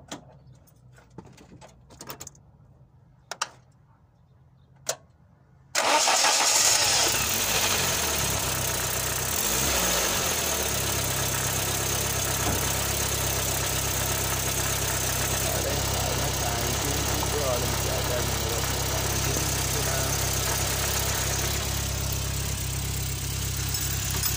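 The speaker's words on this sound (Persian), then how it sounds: "ماشین روشن میکنه" A car engine turns over and starts after a few quiet seconds of handling noises, then settles into a steady, loud idle that runs continuously to the end, after the distributor has been set in place during ignition timing adjustment.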